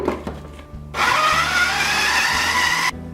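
A food processor whirs loudly for about two seconds as it mixes sugar for a frozen margarita pie. The motor starts abruptly and cuts off sharply, close and steady.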